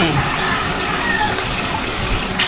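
Tap water runs steadily onto raw pork being rinsed in a kitchen sink, a continuous close splashing gush that lasts throughout, with no pauses.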